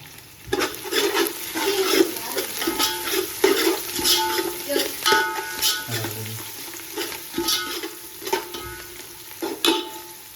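Fried onions with a handful of coriander being stirred in a pot for prawn biryani, repeated scraping and clattering strokes over a soft sizzle, close and irregular, with no talk.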